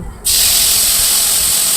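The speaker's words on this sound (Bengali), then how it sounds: "এবার ওর মধ্যে দিয়ে দিতে হবে আগে থেকে বেটে রাখা পোস্ত" Ground poppy seed paste hits hot oil already fried with panch phoron, bursting into a sudden loud sizzle that holds as a steady, close hiss.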